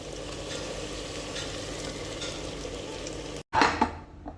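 Food fries in hot oil as a steady, dense sizzle that lasts about three and a half seconds. It then stops briefly, and a short burst of crackling and utensil clatter follows.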